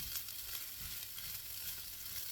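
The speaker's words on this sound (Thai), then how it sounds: "ทีนี้ขอผัดข้าวให้เข้ากับผักก่อนนะคะ" Fried rice with vegetables crackles in butter in a hot pan, a soft, continuous sizzle with faint stirring, close and unbroken.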